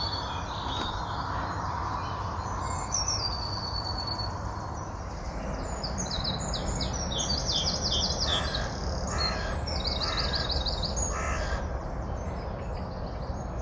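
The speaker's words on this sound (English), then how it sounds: "It's crows." Several crows caw repeatedly in a garden during a dawn chorus, harsh calls fairly near and clustered in bursts over a steady bed of other birdsong and insect hum.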